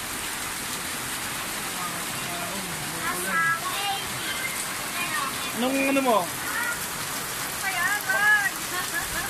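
Heavy rain pours down in a steady, broadband hiss that runs the whole way through, while several people talk and call out over it.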